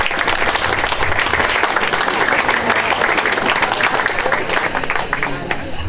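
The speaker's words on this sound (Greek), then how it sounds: "Εδώ θέλει ένα πολύ μεγάλο χειροκρότημα." An audience at a charity association's 40th anniversary event claps loudly and steadily, a dense, sustained round of applause with a few voices mixed in.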